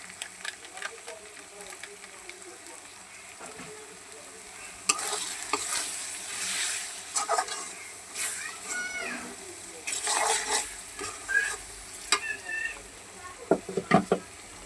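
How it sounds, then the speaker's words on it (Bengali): Roast masala spices frying and being stirred in a pan for a chicken roast, a steady sizzle with scraping stir strokes that grow louder midway, heard alone without talk. "এই যে রোস্টের মশলা দিয়া এখন আমি রোস্টটা রান্না করে নেব।"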